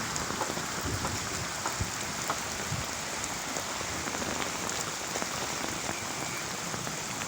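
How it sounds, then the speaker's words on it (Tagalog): Heavy rain pouring down on a flooded home during a storm, a steady dense hiss of drops drumming on surfaces, loud and unbroken with no voices. "Basa na rin dun sa loob sa lakas ng ulan."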